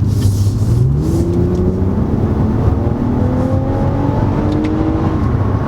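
A 2020 Toyota Camry TRD engine revs up, drops pitch with each gear change, and climbs again through several manual-mode upshifts, loud and close.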